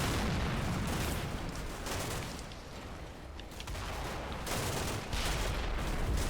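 Mortar round bursts in the snowy wartime battle game CMBS, a sustained rumbling barrage of booms and gunfire-like cracks, loud and continuous with several heavier impacts throughout.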